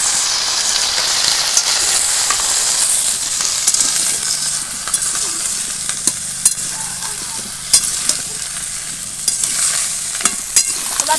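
Pumpkin and potato pieces fry in a pan for a Bengali vegetarian dish. A steady bright sizzle runs throughout, broken by repeated sharp scrapes and clicks of a spatula stirring, close and loud.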